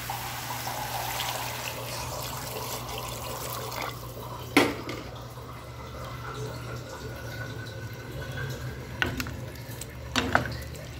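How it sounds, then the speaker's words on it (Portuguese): Water poured into a pan with palm hearts and fried chicken while cooking, a soft continuous trickle and splash over background hum, with a few sharp knocks of utensils against the pan. "Acrescentar água."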